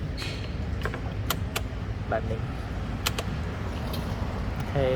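Keys jingle and click in several short bursts over a low background rumble, with a voice speaking briefly.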